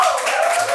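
Audience clapping on a talk show set, a brief dense burst of many hands with a faint tonal hum underneath.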